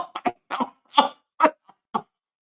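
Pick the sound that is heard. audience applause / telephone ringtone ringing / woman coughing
woman coughing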